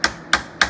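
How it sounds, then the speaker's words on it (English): A hammer taps a press pin into a power seat motor from a 2006 Dodge Ram 3500, three sharp evenly spaced metallic strikes, close and alone. "It's ready to accept the press pin, and I'll just hammer that in."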